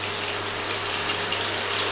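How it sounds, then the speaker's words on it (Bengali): Whole cumin seeds sizzle in hot oil in a pan for tempering, a dense, steady hiss that stays loud and constant throughout, with no talking. "এই তেলের মধ্যে আমি 1 চামচা জিরে, গোটা জিরে ফোড়ন দিয়ে দিচ্ছি"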